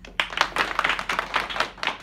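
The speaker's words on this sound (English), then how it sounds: "Round of applause." A small group claps in a brief, uneven burst of applause, the claps close and fairly loud for about two seconds.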